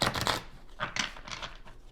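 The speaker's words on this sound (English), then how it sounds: "We'll shuffle 3 times and then we'll start" A deck of tarot cards is shuffled close by in short riffling bursts, one quick flurry followed by a few softer rustling pulses, with no talking.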